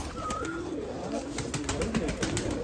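Giribaj pigeons at a pigeon farm, soft rolling coos and faint bird calls mixed with light rustling and scattered clicks, moderately quiet and close, with no talking.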